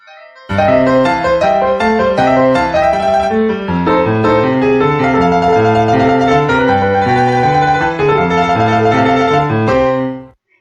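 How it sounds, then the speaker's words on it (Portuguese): Solo piano plays a continuous melodic passage of struck notes and chords, loud and close, ringing out for about ten seconds before the final notes decay. "Então, esse é o som do piano"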